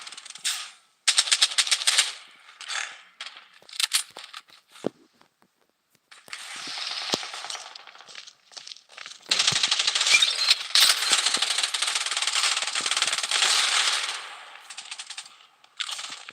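Rapid bursts of automatic gunfire from the video game Payday, loud and close, coming in short volleys before a long sustained stream of shots near the end.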